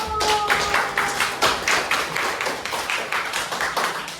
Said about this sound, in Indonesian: Mari tepuk tangan untuk kelompok 1